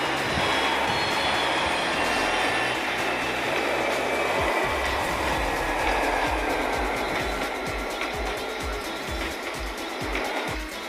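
Loud, steady rumble of an American Amtrak or SD40 locomotive in a video game rolling along, with hissing, rattling wagons and occasional thumps, continuous and close for the whole stretch.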